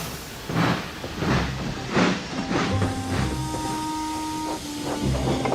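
Thomas the Tank Engine, a steam locomotive, chuffs in a slow, steady rhythm of soft hissing puffs, with a low sustained toot partway through.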